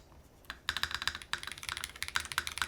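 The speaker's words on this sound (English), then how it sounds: "This Tech Amber switch actually sounded pretty good." Typing on a Razer BlackWidow V4 Pro 75% keyboard with Tech Amber switches: quick, close clicky keystrokes in an uneven rapid stream, starting sparse and then tapping steadily.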